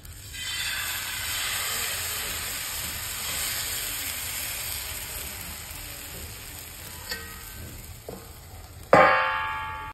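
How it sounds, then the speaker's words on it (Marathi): Rice flour batter poured onto a hot griddle over a wood-fired clay stove, a steady sizzle and hiss throughout, ending with a sharp metallic clang as a lid is set down. "तवा तापला आता मस्त. त्याच्यावर पीठ टाकून"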